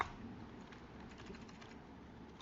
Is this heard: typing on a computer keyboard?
yes